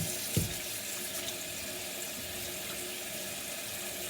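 Steady broadband rush of cold water pouring from a kitchen tap, continuous and close, with a brief clunk near the start.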